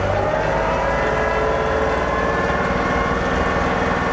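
A John Deere 2038R compact tractor's engine runs loud and close, holding a steady, even drone throughout.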